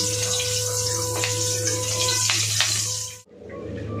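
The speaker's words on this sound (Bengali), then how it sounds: "একটু তেলে হালকা একটু ভেজে মেরে তুলে নেব" Steady, loud sizzling of green chillies frying in hot oil, a dense crackling hiss that drops off abruptly near the end, then continues more quietly.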